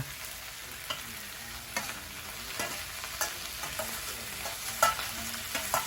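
Vegetables including culantro, Thai coriander and spring onions stir-fried in a hot pan give a steady, close sizzle broken by regular scraping and tossing strokes of the stirring utensil, with no talking.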